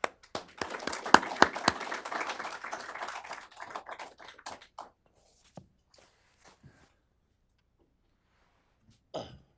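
Audience applause welcoming Sir Roger Scruton at an interview event, a few seconds of moderate clapping that thins into scattered claps, then near silence with a brief rustle at the end.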